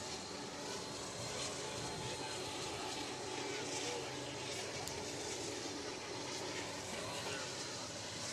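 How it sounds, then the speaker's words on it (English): A train rolls past near a high school football field during a night game, a broad steady rumble holding evenly throughout at moderate distance. "And the train is passing by."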